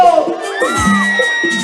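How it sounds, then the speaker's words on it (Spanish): Women in a party audience shout and cheer together at a birthday celebration, a loud, sustained burst of high whooping voices that rises and falls over about two seconds. "Las mujeres, un grito."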